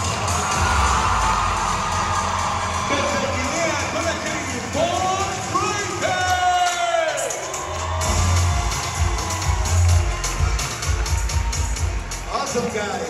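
Circus audience cheering, whooping and applauding throughout a Hermanos Vasquez circus show, with children shouting amid a loud, continuous crowd roar and bursts of louder cheers.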